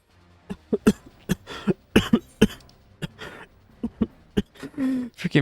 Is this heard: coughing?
yes